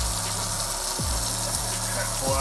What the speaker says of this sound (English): So we're gonna add a couple inches of water and then work our magic with the creases